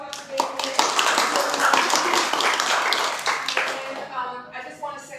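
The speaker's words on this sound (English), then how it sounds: "give the people that are here tonight a round of applause" A crowd claps in a sustained burst of applause, close and lively, tapering off near the end as a voice starts speaking.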